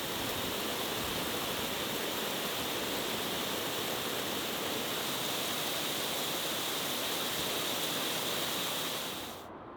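Steady, dense hiss of water spraying onto a football pitch during pre-season renovation, broadband and constant for nearly ten seconds before cutting off at the very end, with no voices.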